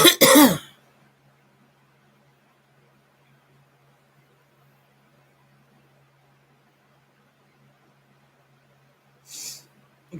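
Throat clearing and a short cough, loud and close at the start, then near-silent room hum, with a second brief throat noise near the end.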